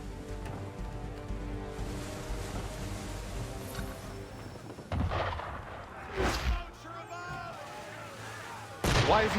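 A ship firing at a boat in Assassin's Creed III: booming cannon shots, a few loud separate blasts over steady rumbling water and wind, with faint voices in the background.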